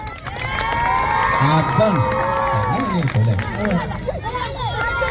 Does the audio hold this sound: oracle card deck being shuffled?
no